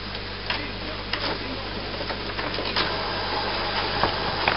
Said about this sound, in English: The printer is now going through its setup procedure.